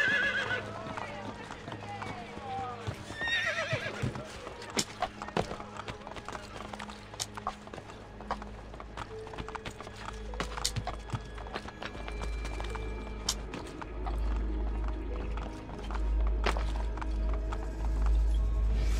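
A horse in the video game Assassin's Creed Brotherhood clip-clops with steady hoofbeats and lets out a whinny, heard alongside game sounds, a low rumble and speech.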